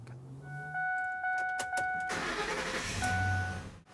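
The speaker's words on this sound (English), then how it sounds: "Now that we've started the engine" A Ford Triton engine with a misfire cranks and catches, a chime beeping first, then a loud surge settling into a rough close idle with no talk.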